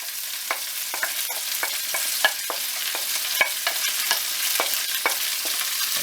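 Pieces of heart fry with onions and garlic in a pan for paprikash, a bright steady sizzle with a regular stream of scraping stir clicks, no voices.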